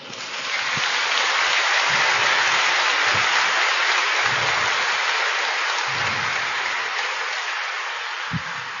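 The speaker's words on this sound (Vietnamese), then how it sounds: "chúng ta sẽ cho một tràng pháo tay thật lớn" Sustained, dense applause from a large congregation at a Catholic diocesan gathering honoring a bishop, steady and loud throughout with scattered low thumps.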